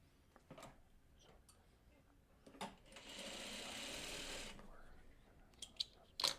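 Domestic sewing machine stitching a pieced quilt block, a steady whirring run of about a second and a half amid quieter handling clicks and rustles, close and moderately loud.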